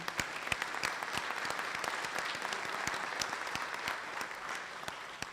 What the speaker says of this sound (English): I want to ask that you give them a round of applause